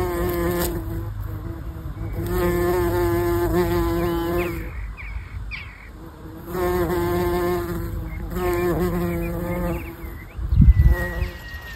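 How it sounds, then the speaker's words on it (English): A wasp and other small flying insects buzz close by outdoors on a nature walk, with steady droning hums that come and go in bursts and a brief low thump near the end. "I think that's a wasp,"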